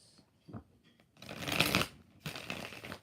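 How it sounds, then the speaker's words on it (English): Tarot cards are shuffled in two riffling bursts, close and fairly loud, after a few faint taps on the deck and with no voices. "4 shuffles."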